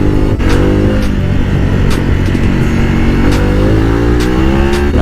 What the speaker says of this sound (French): Et le pot il fait un boucan frère.